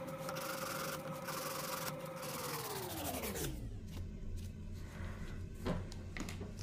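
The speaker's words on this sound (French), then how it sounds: "on va venir limer le bord libre" A nail file rasps back and forth along the free edge of an artificial chablon nail extension with a continuous scratchy rubbing. A tone glides downward partway through, and softer strokes follow.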